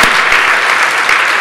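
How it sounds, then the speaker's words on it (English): Loud, close applause from a convention lecture audience fills the whole moment as a thick, continuous burst of many hands clapping. "So, applaud to the logos animals."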